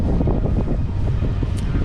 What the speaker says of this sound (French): Là, on a le vent en face d'ici.